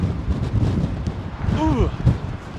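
An Airbus A350 jet departs Heathrow runway 27R with a deep, rumbling roar heard up close outdoors, buffeted by gusty wind noise on the microphone.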